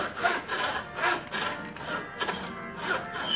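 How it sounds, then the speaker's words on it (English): A hand bone saw cuts through a whitetail deer skull plate in a run of rhythmic back-and-forth strokes, about six rasping passes, close and fairly loud. "now I use this bone saw always"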